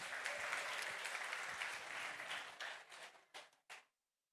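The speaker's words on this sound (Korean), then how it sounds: "자, 짝꿍에게 박수." Seated lecture audience applauding their seat partners, a dense burst of clapping that thins out and ends in a few last scattered claps.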